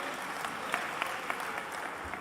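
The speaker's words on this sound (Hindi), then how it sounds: "तालियां बजा के स्वागत करें भाई।" An audience claps to welcome an honored guest at a community gathering in Bhopal, steady dense applause across the whole moment at moderate level, with a faint murmur of voices.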